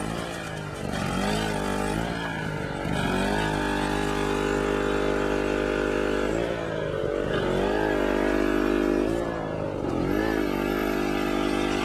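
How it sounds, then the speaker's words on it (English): A generator runs at a borehole site on an old riverbed while someone prospects for gold. It is a loud, steady engine drone with a strong low hum that dips and swells slightly in pitch and carries on throughout without talk. "we've got the generator going here"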